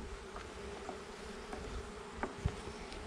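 Honeybees hum from an opened hive during an early December inspection, a continuous, fairly soft, close drone with a few faint knocks and handling sounds.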